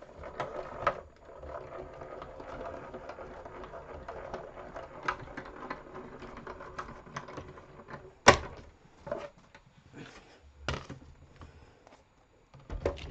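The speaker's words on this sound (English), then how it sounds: "die cutting machine" A well-used die cutting machine feeds taped-down paper through its rollers with a steady low grinding whir, broken by a few sharp knocks and clunks near the end, close and moderately quiet.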